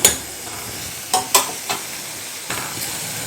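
Vegetables stir in a hot pan over a steady sizzle, with a few sharp scrapes and knocks of the spoon against the metal, close and clear, no voices.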